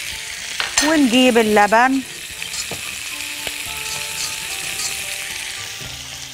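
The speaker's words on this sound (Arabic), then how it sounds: "هنا الزبده ساحت اهي. بنحط الدقيق اللي عندنا ونقلب" Flour is stirred into melted butter in a pan, giving a steady, soft sizzle beneath a short burst of speech near the start, then continuing on its own at moderate level.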